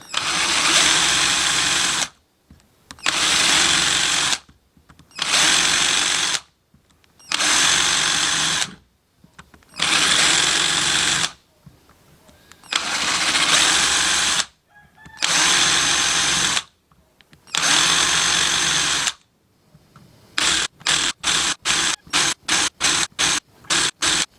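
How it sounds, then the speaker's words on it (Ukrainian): A power drill bores out spot weld points on an electric bike part in a series of loud, evenly spaced whirring bursts of about two seconds each, ending in a rapid run of short trigger pulses. "Кожну цю точку висверлюю і потім відриваю цю пластину."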